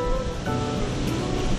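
A waterfall on a trout stream pours beside a deep pool, giving a loud, steady, broadband rush of falling water with no pauses and no voices.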